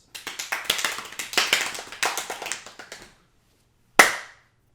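Applause on a podcast: a burst of clapping runs for about three seconds, modest rather than thunderous, then a single sharp tap or clap rings out after a brief silence.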